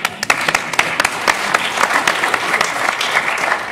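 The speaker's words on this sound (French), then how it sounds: "on vous applaudit" Enthusiastic audience applause at a theatre show in Saint-Raphaël, loud, dense clapping from a full house sustained for several seconds without a break.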